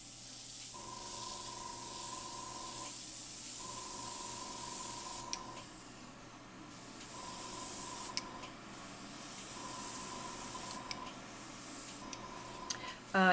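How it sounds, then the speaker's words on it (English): Steady airbrush spray hiss over a constant droning air compressor hum, with the spray stopping and restarting in short bursts throughout; airbrushing onto Pastelmat paper. "You'll hear a compressor going on in the background,"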